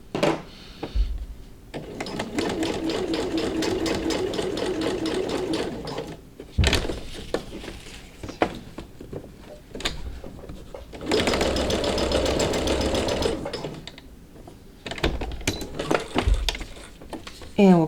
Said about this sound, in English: we're going to sew a straight stitch all the way across